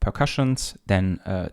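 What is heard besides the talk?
No everyday noise stands out behind the speech.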